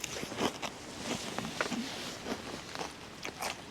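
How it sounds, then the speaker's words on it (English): Crunchy cornflakes in semi-skimmed milk are chewed close up at a woodland tarp camp, with a run of soft, crackly bites in an uneven rhythm and no talking. "crunchy cornflakes, making a lot of noise on me chewing"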